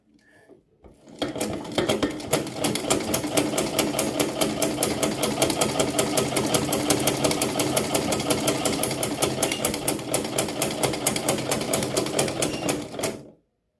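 A sewing machine stitches fabric steadily after its thread tension is corrected, a fast even clatter running at constant speed for about eleven seconds, close and loud, starting and stopping cleanly with no talk.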